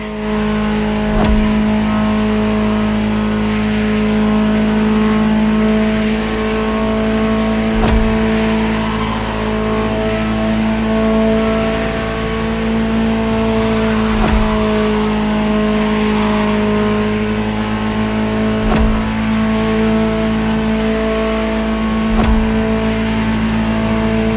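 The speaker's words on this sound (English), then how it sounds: "Just listen to the car you're driving." A Ferrari supercar in the racing game The Crew Motorfest revs and drives with a loud, continuous engine roar. Sharp shift-like bursts punctuate it every few seconds, with no talk.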